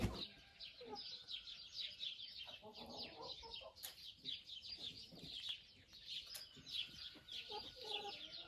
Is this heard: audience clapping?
no